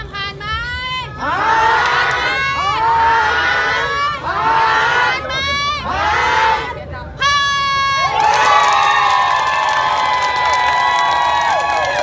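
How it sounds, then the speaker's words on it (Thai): Stage-side crowd at the Golden Mic award announcement cheering in repeated loud bursts of shrieking and shouting, then swelling into one sustained roaring cheer near the end. "พร้อมกันนะขอเชียร์กันอีกครั้งนะครับ"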